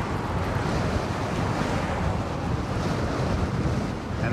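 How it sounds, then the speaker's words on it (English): Steady, loud wind buffets the microphone at Fort Myers Beach while riding a Gotway MSX 100V electric unicycle, a continuous roaring rush with no breaks and no voices. "enough of fighting this wind"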